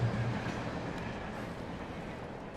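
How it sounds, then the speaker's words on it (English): A train rolls past in the video game Alan Wake Remastered, a steady low rumble of rail cars that holds evenly throughout, fairly quiet and with no talk. "Ooh, a train."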